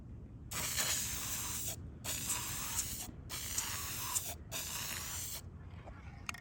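An aerosol can sprays black paint onto Mitsubishi Lancer interior plastic parts in four steady hissing bursts with short pauses between them, close and loud, over a low background rumble.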